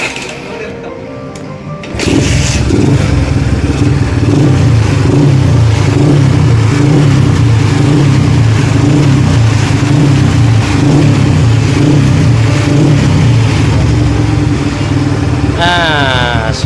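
A Scorpio 250 cc motorcycle engine, whose starter is faulty, fires up after a quiet moment and settles into a loud, steady, close idle with a rhythmic throb, and a voice briefly comes in near the end.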